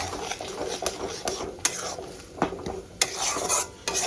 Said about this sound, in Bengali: টমেটো পেস্টটা আমি দিয়ে দিলাম টমেটো পেস্টটা এবার ভালো করে কষাতে থাকবে